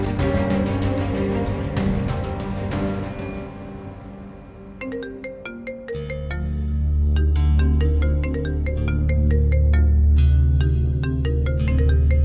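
A phone ringtone sounds for an incoming call in a Pakistani drama scene, a loud melodic electronic tune repeating its phrase continuously over backing music, with no talk.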